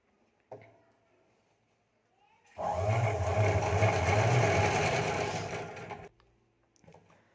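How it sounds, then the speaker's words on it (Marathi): A sewing machine stitches a straight line on a blouse, a steady close motor hum that runs for about three and a half seconds between quiet moments with faint handling clicks. "सरळ एक अशी रेष टिप टाकत घ्यायची आहे"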